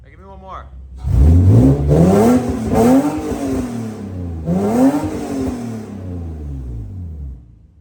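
Lexus engine fitted with new aftermarket headers revving hard in repeated blips, each rising and falling roar loud and close, after a brief idle start.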